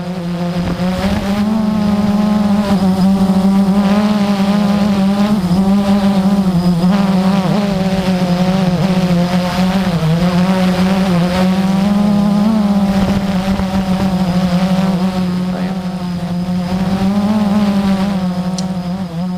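A Blade 350 quadcopter drone flies close by with a loud, continuous high-pitched buzzing whine from its rotors, rising and falling slightly in pitch as it maneuvers.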